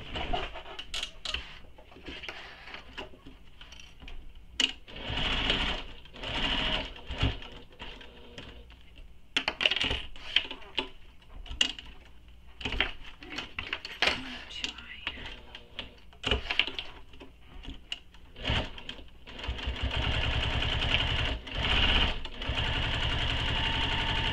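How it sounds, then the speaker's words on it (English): A sewing machine top-stitching along the zipper edge of a fabric mini backpack, running in short bursts of rapid whirring stitches with pauses between them, then a longer steady run at the end. "Now we're going to top stitch across the edge where the zipper is, down the sides, around the bottom, and back up the other side."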